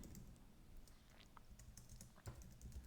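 Quiet tapping on a computer keyboard, typing a Linux terminal command. Soft, irregular keystrokes run throughout with no talking.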